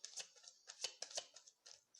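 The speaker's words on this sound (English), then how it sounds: "I'm going to go ahead and shuffle that out for you." Tarot cards being shuffled by hand: soft, papery flicks and riffles in quick irregular bursts, faint and close, with short pauses between and no voices.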